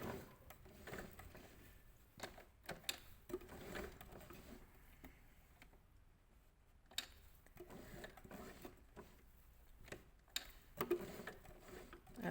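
A sewing machine stitches appliqué felt while its hand wheel is turned slowly, giving faint, irregular ticks and clicks with pauses between them, quiet and close.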